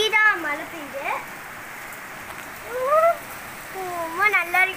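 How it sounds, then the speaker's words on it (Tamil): Heavy rain hisses steadily in the background as a person talks over it in the foreground. "ஸ்பீடாக மழை பெய்யுது."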